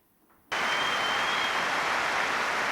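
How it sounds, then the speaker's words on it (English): A stadium crowd at Anfield gives a minute of applause for Pelé before a football match: after a short quiet moment, dense, steady clapping rises abruptly and holds at full strength, a broad wash of sound filling the ground. "There was a minute of applause for Pelé at Anfield before this evening's match"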